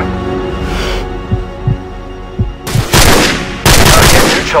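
Gunfire in Call of Duty 4: Modern Warfare, a few scattered soft shots followed by two loud, dense bursts of automatic fire close by, over a steady game background.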